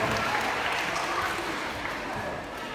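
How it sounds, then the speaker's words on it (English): Audience applause at an outdoor sea lion show, a broad steady wash of many people clapping from a distance that fades slightly toward the end. "Give them both a nice big round of applause."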